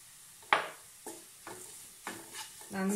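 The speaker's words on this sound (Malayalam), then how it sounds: "നന്നായി എണ്ണയിലൊന്ന് മൂപ്പിച്ചെടുക്കണം" Ground spices and turmeric being stirred and fried in oil for pepper chicken, a few soft scraping stirs and light sizzling bursts at irregular intervals, quiet and close, with no talk.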